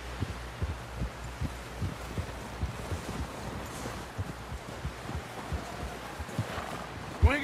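Steady clip-clop of horse hooves trotting at an even rhythm in Red Dead Redemption 2, with a low wind-like background throughout.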